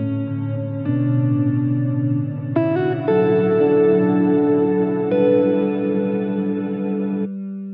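Sustained guitar chords through the cathedral setting of a Meris Mercury X reverb pedal, drenched in a long, washy reverb, notes blooming and hanging in a vast cathedral-like decay, played alone with no talking.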